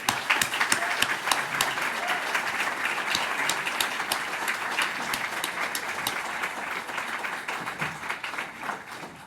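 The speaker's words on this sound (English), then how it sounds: "please help me give her a round of applause to Heather King for Heather's Way" Sustained audience applause for Heather King at a spring brunch awards program, many hands clapping steadily and fairly close for the whole stretch, tapering slightly near the end.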